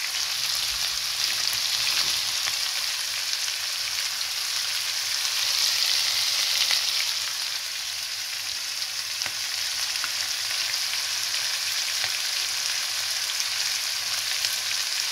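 Shawarma with peppers sizzles steadily in a pan, a continuous bright frying hiss while the mixture is stirred, with no talking.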